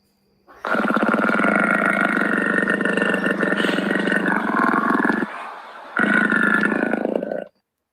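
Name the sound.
person imitating a low, long growl like a tiger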